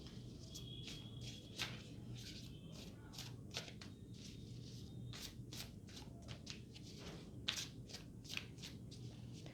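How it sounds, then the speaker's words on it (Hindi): Tarot cards shuffled by hand that keep sticking together, faint soft riffles and brushing flicks in a quiet room, a low steady hum and light insect-like chirping underneath, no talk. "कार्ड स्प्लिट ठीक से शफल नहीं हो पा रहे हैं, एक दूसरे से चिपक गए हैं"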